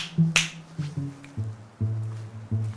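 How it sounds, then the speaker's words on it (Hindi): Someone tries to snap the fingers of the left hand, producing one sharp, crisp snap near the start against a steady background of low tonal music. "चुटकी तो बज नहीं रही बाएं हाथ से"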